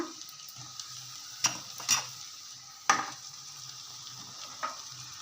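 Boiled cowpeas stirred into a sizzling pan, a faint background fry hiss with a few distinct scrapes and clinks of a spoon against the pan, close and without speech.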